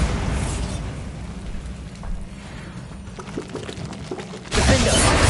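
A Bombarda spell explosion in the wizarding game Hogwarts Legacy erupts as a sudden booming burst near the end, after a stretch of lower rumble and scattered small pops.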